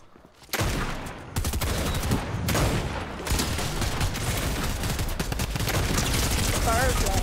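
A drum gun fires in a shooting video game during a fort fight, with dense rapid automatic bursts that run almost continuously after a short quiet opening and are loud and close.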